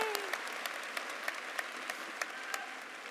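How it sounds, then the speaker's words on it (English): Crowd applause at a high school commencement ceremony for introduced guests, a sustained even patter of many hands clapping at moderate distance, with a few sharper individual claps standing out and a faint cheer partway through. "please join me in giving them a round of applause"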